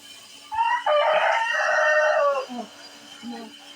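A rooster crows loudly and close by, a drawn-out call followed by softer clucking from bearded chickens, with a steady hum underneath.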